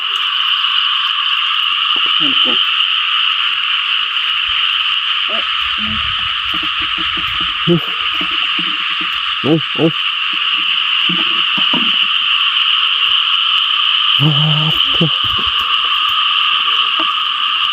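Frogs croak at night around a pond, a dense continuous chorus of shrill calls running throughout, with nearer, deeper rhythmic croaks and low hoots popping up intermittently over it.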